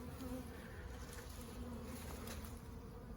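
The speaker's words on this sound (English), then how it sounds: "Still a lot of bees." Bees buzz steadily around an open hive during an inspection, a close continuous drone with a few louder passes near the microphone throughout.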